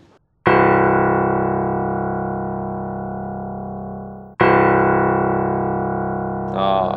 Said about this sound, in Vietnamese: Đây tiếng thấp nhất của piano ở quãng nhất.